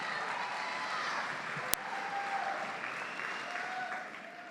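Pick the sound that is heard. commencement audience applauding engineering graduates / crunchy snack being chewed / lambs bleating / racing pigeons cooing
commencement audience applauding engineering graduates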